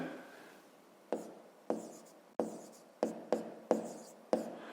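A pen writes out a fifth-grade math exercise by hand on paper, close and quiet, in a series of short, sharp strokes and taps at an uneven pace, with no talk.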